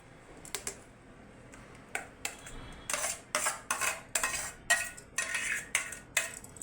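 A spoon mixes yogurt with a blended spice paste in a bowl. It makes a series of irregular clinks and scrapes against the bowl that grow busier and louder toward the end. Nobody speaks.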